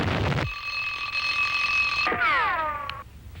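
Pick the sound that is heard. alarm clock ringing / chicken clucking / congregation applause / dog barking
alarm clock ringing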